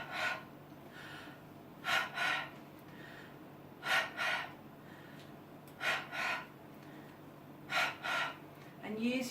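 Deep, forceful breaths in and out repeat in a steady rhythm during a solar-plexus breathing exercise, each sharp rush of air close and clear, with short quiet gaps between them.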